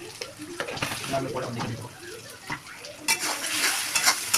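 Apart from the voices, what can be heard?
chicken masala frying and being stirred in a pan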